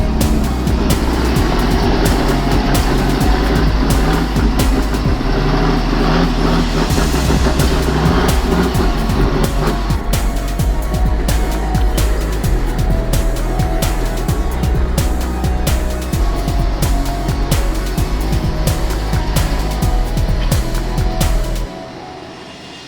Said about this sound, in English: This log truck tries to take a narrow bend, but the road is simply too tight, and the truck becomes stuck.